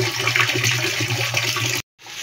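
Water gushes strongly from a tap as a loud, steady rushing stream, then cuts off abruptly near the end, leaving faint background noise.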